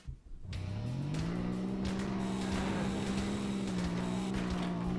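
A car engine in the video game Earn to Die 2, freshly upgraded, starts up and drones steadily with a rising then held pitch, loud and continuous throughout.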